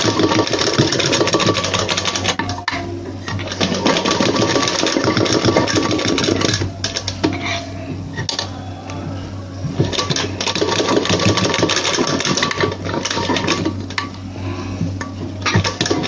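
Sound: sewing machine stitching a blouse

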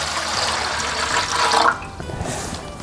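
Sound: water poured into a vaporizer

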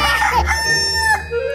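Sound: rooster crowing sound effect on a radio show

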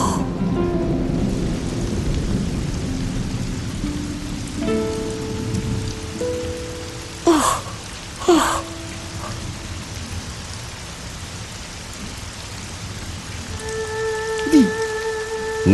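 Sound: thunderstorm with rain and thunder

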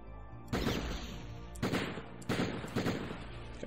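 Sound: Beretta pistol gunfire in Die Hard Trilogy video game

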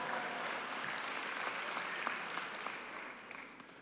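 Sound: audience applause at a gala

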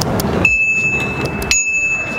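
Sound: VanMoof S4 electronic bicycle bell called Ping

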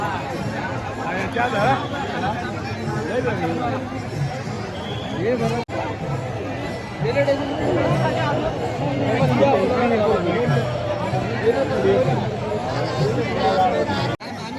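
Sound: crowd of pilgrims at Vitthal Rukmini temple

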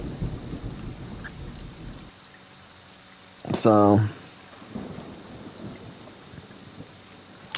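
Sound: rain and thunder in the video game Friday the 13th

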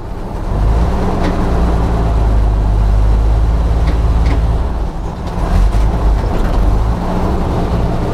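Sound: 1952 ZiS MMZ-585 truck engine running while driving

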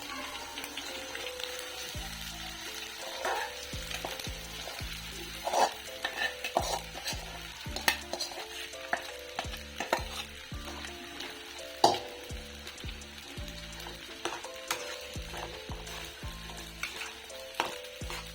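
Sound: sabudana khichdi mixture frying and being stirred in a pan

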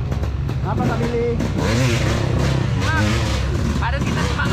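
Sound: enduro motorcycle engine revving on trail

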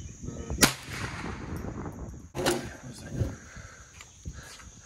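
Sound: gunshots at a shooting range

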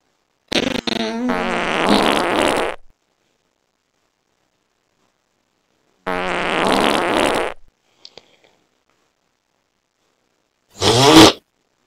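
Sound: fart sound effects from a fart button

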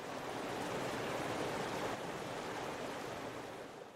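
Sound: rushing river water

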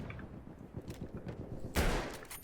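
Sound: sniper rifle gunfire in video game Battlefield 1

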